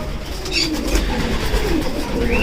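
Young racing pigeons coo softly in low, throaty rolling calls, close by, over a steady background hum.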